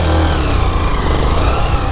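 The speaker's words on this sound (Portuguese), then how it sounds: "Puta, a moto tá morrendo, tio." A motorcycle engine idles roughly and loudly up close, chugging unevenly as it struggles and begins to stall, with no talk over it.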